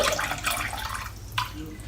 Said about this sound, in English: Just squeezed out a good bit of the water,